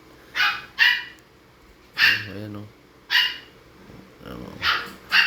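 A large Akita lets out several loud, deep barks in short bursts, with someone talking briefly between them.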